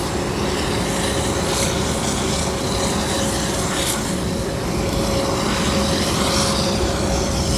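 Aircraft at the Singapore Airshow 2024, an Airbus A350 among them, producing a continuous loud jet rumble and roar with a faint steady tonal whine and no voices.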